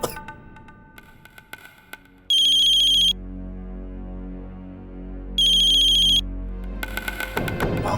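Incoming-call ringtone on a phone in a family drama household, two loud electronic ringing bursts separated by a pause over a low background music bed, with no talk.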